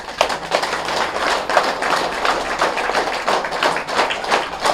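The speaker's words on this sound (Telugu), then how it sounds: "గట్టిగా క్లాప్స్ కొడదాం." An audience claps loudly together at a meditation gathering in Khammam, a dense, steady wash of many hands sustained for several seconds without letting up.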